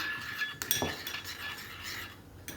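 Utensil scraping and clinking against a bowl while sauce is mixed with oil for doner, a few sharp metallic chinks over a soft continuous stir.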